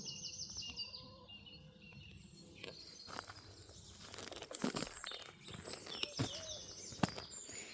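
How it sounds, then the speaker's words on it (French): Birds chirp faintly outdoors near a large oak tree on a sunny day, soft scattered calls mixed with close rustling and crinkling sounds, with no talking. "Les oiseaux."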